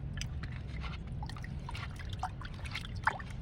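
Shampoo being stirred into a few litres of water in a container, mixed as a garden spray for aubergine plants, giving a steady soft sloshing and trickling with small splashes and a sharper splash near the end.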